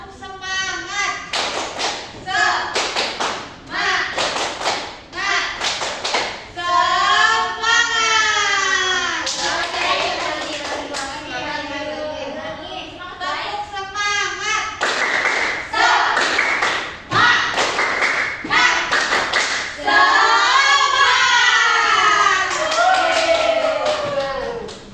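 Classroom children doing the rhythmic 'tepuk semangat' clap, with loud patterned bursts of hand claps and taps mixed with children chanting and singing together throughout.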